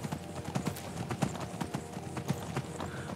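Horse hooves clip-clop at a steady riding pace in the video game Skyrim, a continuous rhythmic clatter of footfalls along a stony path, loud and close with no talk over it.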